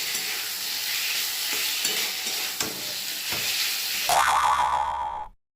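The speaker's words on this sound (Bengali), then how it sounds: "এইবার ভেজে রাখা সবজিটা আমি ওর মধ্যে দিয়ে দেব, দিয়ে আরও 2-3 মিনিট কষবো।" Pre-fried vegetables for a potato and pointed gourd curry are sautéed in oily spice paste in a pan, giving a loud, continuous close sizzle with scraping stir strokes. It grows briefly more intense before cutting off, with no voices.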